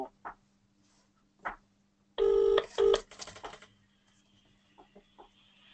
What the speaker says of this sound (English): I'm going to try calling it from a different phone.